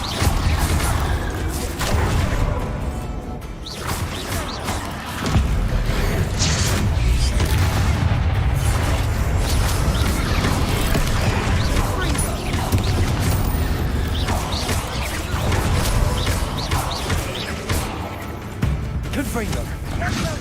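Incendio fire spells cast in Hogwarts Legacy, with dense, repeated booming bursts and crackling impacts through a loud, busy cave-fight soundscape, and a voice speaking over parts of it.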